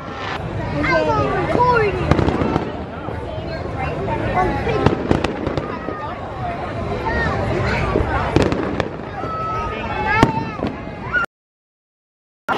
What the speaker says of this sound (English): Say fireworks.